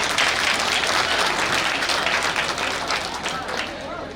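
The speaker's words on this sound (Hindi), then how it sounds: "जोरदार तालियां" Wedding guests at a Buddhist-tradition ceremony clap in a loud, continuous wash of applause that tapers slightly toward the end, close and full throughout.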